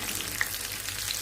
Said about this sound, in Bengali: আমি এগুলো ফ্রোজেন করে রেখেছিলাম কয়েকদিন আগে, সেগুলো আজকে মেয়েকে ভেজে দিতেছি।